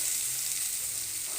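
Fish frying in a pan for a curry, a soft, even crackle and hiss of oil that runs on steadily without pause and with no one talking.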